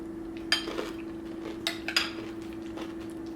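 A spoon clinks and scrapes against a bowl while mixing a chia seed breakfast topped with strawberries, giving a few sharp, close metallic taps over a steady background hum.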